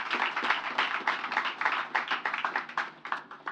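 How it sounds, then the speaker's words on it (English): Audience applause for the chairman of NGX at a Zenith Bank rights issue and public offer event, a dense, steady patter of many hands clapping fairly close throughout, with no talk over it. "I'd like you to please give all of them a round of applause as we recognize them in succession."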